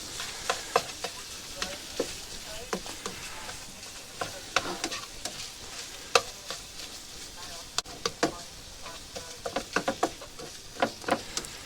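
Watery mince browns in a hot pan, a gentle continuous sizzle punctuated by irregular scraping clicks of stirring, sometimes in quick clusters, close and moderately loud, with no talking.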